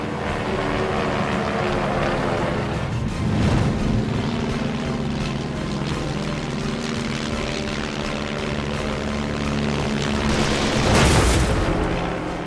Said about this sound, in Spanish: Brooks vira a la derecha y rocía al Fokker con el fuego de sus ametralladoras